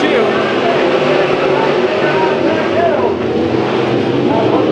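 Race cars at Chowchilla Speedway roar continuously during a heat race, their engine drone loud and steady with pitch shifts as they pass, while a commentator talks over the noise throughout.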